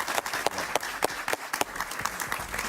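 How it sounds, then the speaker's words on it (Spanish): A studio audience at a televised interview gives a guest a brief round of applause, with moderately loud, clearly separated claps over a few seconds. "Un aplauso para Javier."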